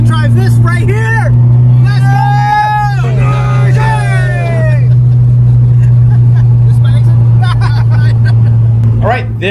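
A Honda Civic Type R being driven, its engine a steady, loud low drone inside the cabin, with people talking over it and passing background sounds.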